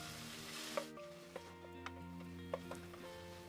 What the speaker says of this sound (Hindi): कलर चेंज होने तक फ्राई कर लेंगे